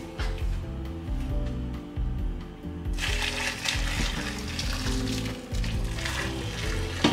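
Boiling water poured over catfish pieces and lemon in a pot for pepper soup, a continuous rushing splash that grows brighter and fuller partway through, close and fairly loud.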